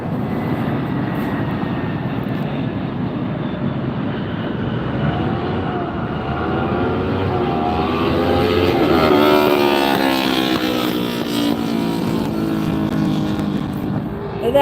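A Frontier passenger jet roars steadily overhead while landing at Las Vegas airport, its engine whine rising and sweeping in pitch as it passes close by, loud and sustained throughout.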